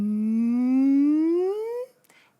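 A human voice imitates a whale with one long, rising, moaning call that swoops upward in pitch for about two seconds, then breaks off into a faint breathy trail.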